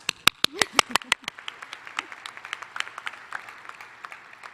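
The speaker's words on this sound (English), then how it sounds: "We can clap for them." A small group claps for two award recipients at a school of education pre-commencement ceremony, starting with a few loud close claps that quickly thin into softer, scattered clapping fading out.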